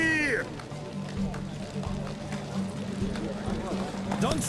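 Horses gallop in a race in the video game The Witcher 3, with rhythmic clip-clopping hooves under voices and shouting riders.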